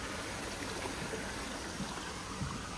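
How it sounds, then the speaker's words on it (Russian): Steady rushing and splashing of water from a small waterfall in a stream at the Clemson University botanical garden, South Carolina, continuous and fairly even throughout, with no voices. "Ручеек, водопадик."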